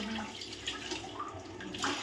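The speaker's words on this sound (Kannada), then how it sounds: "ಈಗ ಮಿಷಿನ್ ಸ್ಟಾರ್ಟ್ ಆಯಿತು ಈಗ ನೀರು ಬರ್ತೈತೆ" A home tap runs after the water pump starts, giving a faint, steady rush of flowing water for about two seconds.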